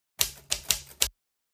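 Four quick, crisp keystrokes on a computer keyboard tap out a value, evenly spaced and close, then stop into silence.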